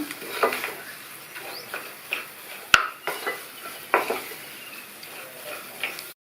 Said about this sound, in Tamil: அது கூட கொஞ்சமாக கொத்தமல்லி இலையும் சேர்த்துட்டு நல்லா இந்த மசாலாவோட எல்லாம் ஒன்றா மிக்ஸ் ஆகிற மாதிரி நல்லா இந்த மாதிரி கலந்து விட்டுக்கணும்